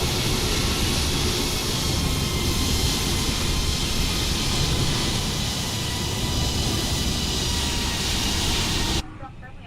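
A Scandinavian Airbus A330 airliner takes off in Microsoft Flight Simulator on a Copenhagen to Stockholm flight, with a loud, steady jet engine roar and hiss holding for nine seconds, then dropping off abruptly.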